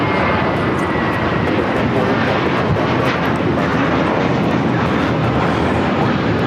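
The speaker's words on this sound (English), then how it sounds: "This is American Airlines Flight 32 taking off to JFK on the A321." An American Airlines Airbus A321 departing LAX for JFK roars loudly and close at full takeoff thrust, a dense, unbroken rumble with a rasping edge that holds steady for several seconds.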